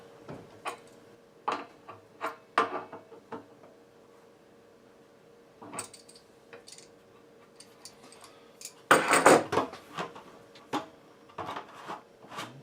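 A plastic lid is fitted onto a Fast Ferment homebrew fermenter, producing a series of sharp, close ticks, clicks and knocks scattered over several seconds, with a denser cluster of snaps near the middle.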